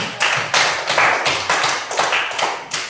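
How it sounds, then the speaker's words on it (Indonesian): Rhythmic clapping from a classroom group cheering the presenting team, a steady run of about ten sharp claps in even beats, close and fairly loud with no talk. "Silakan kita berikan aplaus kepada kelompok"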